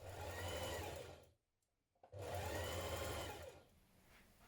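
A sewing machine hemming trousers runs in two loud, close bursts of fast steady whirring, split by a short pause, then fades to a quieter hum.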